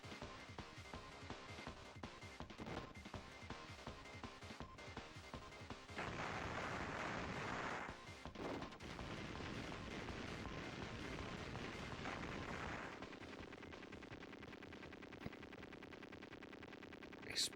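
Contra: Hard Corps battle noise, with dense machine-gun fire and repeated explosions crashing loudly for a long run. A heavy blast bursts out midway, and a faint voice is heard briefly.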